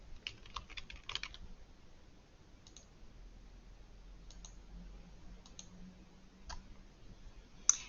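Sparse, faint clicks on a computer keyboard: a short burst of typing early on, then isolated key taps scattered across the rest of the stretch over a low room hum.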